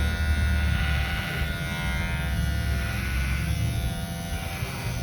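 Electric hair clipper leveling hair on the sides of a haircut: a loud, steady motor buzz close by, running without pause through the whole stretch.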